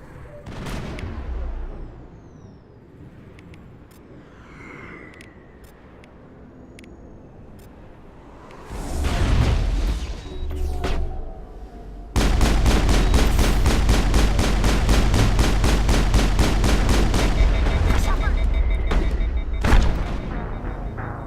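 Gunfire erupts in Mass Effect, with a few loud bursts midway and then a sustained, dense volley of rapid shots and booms running to the end.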